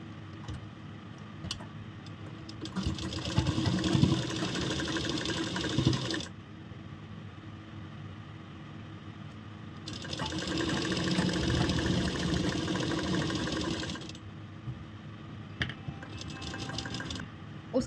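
Electric sewing machine stitching a ladies shirt, running in two long continuous whirring bursts separated by a quieter pause with faint handling noise, close and steady.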